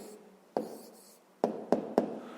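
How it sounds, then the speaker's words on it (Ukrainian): An answer is written by hand on paper for a fifth-grade math exercise: four short, distinct scratchy pen strokes, close and fairly crisp, separated by brief quiet gaps. "записуємо відповідь"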